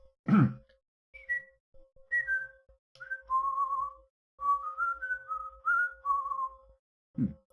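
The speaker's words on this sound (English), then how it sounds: "I tried to whistle there with very dry lips." Several short, thin whistled notes from a person with dry lips, some wavering and breaking off, over a steady low hum, with breathy exhales at the start and end.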